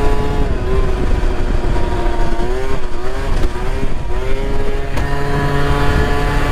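A motorcycle revs hard and continuously while riding wheelies, its engine note rising and falling loudly and close up throughout.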